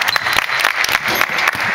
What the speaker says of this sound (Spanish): Aplauso espontáneo completamente.